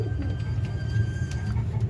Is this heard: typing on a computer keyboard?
no